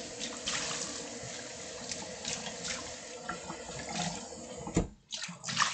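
Kitchen tap water runs steadily into a sink for rinsing during cooking, a close, continuous splashing rush that cuts off briefly near the end before resuming.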